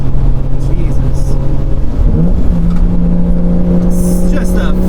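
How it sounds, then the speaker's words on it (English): 1977 Toyota Celica liftback with a swapped 1JZ engine blipping its revs for a downshift, the engine note dipping then rising sharply, loud from inside the car, with people talking over it. "It's just a flawless rev match."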